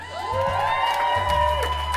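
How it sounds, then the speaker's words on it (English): Lively crowd of whoops, shouts and cheers at a comedy show in Calais, loud and sustained with high-pitched voices overlapping and a low rumble underneath. "can we have a round of applause for Deborah Frances-White?"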